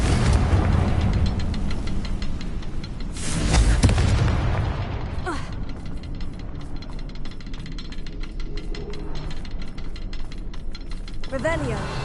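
The Confringo explosive spell fires in a Hogwarts video game, giving a loud booming blast near the middle that rises over a constant dense game soundscape with clattering mechanical textures.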